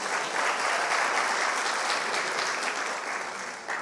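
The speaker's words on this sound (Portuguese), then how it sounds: "Aplaude ao Senhor" A church congregation claps for an 84-year-old pastor in a loud, continuous wash of applause that holds steady and then begins to taper near the end.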